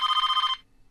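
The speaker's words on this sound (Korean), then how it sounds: "또다시 걸려오는 전화." A telephone rings in the horror film Scream, a loud, close electronic trill with a rapid warbling pulse that holds steady for about half a second before cutting off abruptly into near silence.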